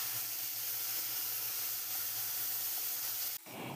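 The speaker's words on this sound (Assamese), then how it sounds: "মই পেষ্টখিনি তেলত দি দিলোঁ আৰু এতিয়া আমি ভালদৰে ভাজিব লাগিব।" Mustard paste frying in hot oil for a mustard fish curry makes a soft, steady sizzle and hiss that continues unchanged, then cuts off abruptly near the end; no one speaks.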